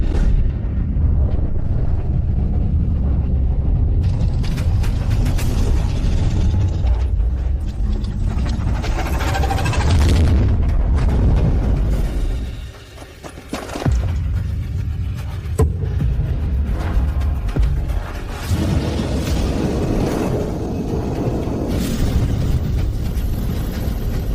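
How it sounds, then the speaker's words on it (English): Massive rumbling explosions from a game's orbital ion cannon blast roar continuously at high volume, with deep booming blasts and a brief dip before the thunderous destruction resumes. "Activate the orbital ion cannon."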